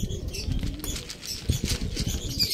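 A racing pigeon flies in and dives down outdoors, giving quick, close bursts of flapping wings that flutter irregularly over a few seconds against faint background noise.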